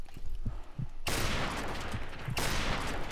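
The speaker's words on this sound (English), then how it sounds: "the Barrett has a really fast fire rate" Barrett sniper rifle shots in Modern Warfare Remastered, two loud sharp blasts about a second apart, each with a long ringing tail, over faint background game noise.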